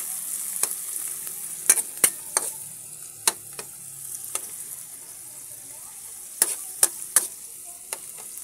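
Bagoong (shrimp paste) with tomato frying in a pan: a soft, steady sizzle runs throughout while a utensil stirring against the pan adds sharp scattered clicks and scrapes, close by and with no speech.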